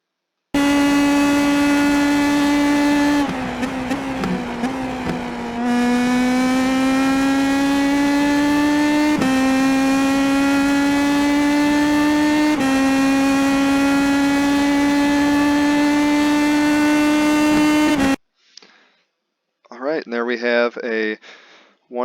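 An IndyPro2000 open-wheel race car lapping Monza in the iRacing simulator, a loud steady engine drone climbing through the gears with a short dip for braking, followed by a few seconds of quieter, broken engine noise at the end.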